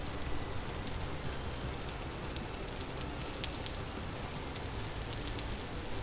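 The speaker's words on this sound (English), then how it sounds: "We're out of the weather, out of the rain for a second." Steady rain in the survival game Vintage Story, a continuous soft hiss with scattered droplet patter on surfaces, even and unbroken with no voices.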